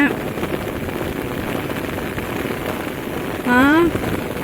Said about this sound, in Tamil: செம்ம வேகமாக பெய்யுதுங்க மழை